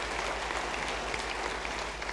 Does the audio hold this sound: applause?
yes